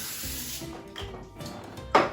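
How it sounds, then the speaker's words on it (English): Cooking spray sprayed onto a wire baking rack for chicken wings, heard as brief soft hissing bursts followed by one sharper spritz near the end, close up and quiet, with no voices. "Let's get some cooking spray on this rack here."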